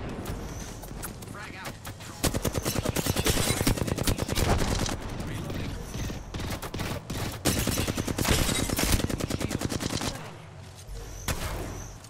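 Rapid automatic gunfire in a shooter video game, dense and loud, in long sustained bursts with brief pauses, while players talk over it.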